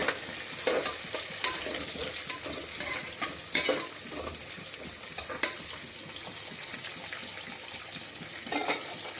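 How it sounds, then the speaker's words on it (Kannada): Onions fry in a pan as a tempering over a high flame, giving a steady moderate sizzle, with scattered stirring taps and scrapes of a utensil on the pan. "ಆ ಈರುಳ್ಳಿನ ಒಗ್ಗರಣೆಗೆ ಹಾಕ್ತಾಯಿದ್ದೀನಿ. ಫ್ಲೇಮ್ ಜಾಸ್ತಿ ಮಾಡ್ಕೊಳ್ಬೇಕು."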